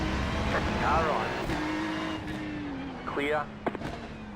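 A race car in the iRacing sim game draws alongside, its engine drone rising and sweeping in pitch over a steady background engine hum, with a voice speaking over it.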